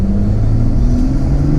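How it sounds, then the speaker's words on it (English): A 2020 Toyota Supra with a Stage 2 tune accelerates on a city street, its loud, steady engine rumble rising in pitch as the turbo builds, heard from inside the car with no talk. "I could really hear the turbo spool"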